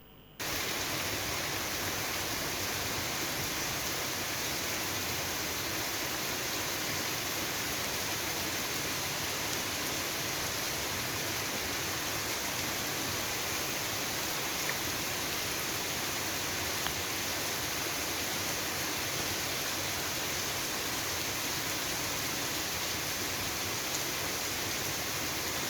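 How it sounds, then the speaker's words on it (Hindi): Steady, heavy rain during Cyclone Yaas, a continuous loud hiss of downpour with no break and no talking. "प्रखंड क्षेत्र में लगातार बारिश हो रही है"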